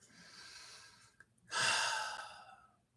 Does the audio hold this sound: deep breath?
yes